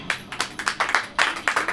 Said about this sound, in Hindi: बस ताली बजाइए